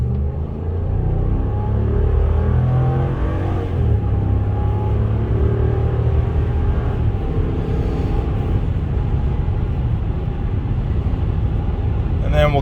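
A 2014 RAM 1500 Laramie pickup accelerating hard, heard as a steady, heavy engine rumble and road roar that holds constant throughout, recorded from inside the cab.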